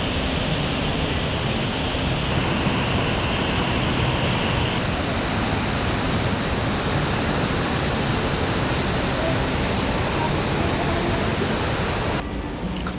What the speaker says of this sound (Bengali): আর ওখান থেকে জলটা পড়ছে, এই যে এই জলটা আসছে ওখান থেকে পড়ছে।